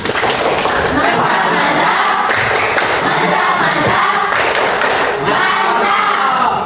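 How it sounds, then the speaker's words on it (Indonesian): A crowd of people claps together, a dense steady patter of applause with some voices mixed in, sustained for several seconds. "tepuk tangan buat Rahma."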